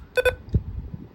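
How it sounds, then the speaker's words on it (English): Two quick, bright button beeps in close succession from an HH54VP handheld weather radio, followed by a faint click, in a quiet room. "You can hear the button beeps."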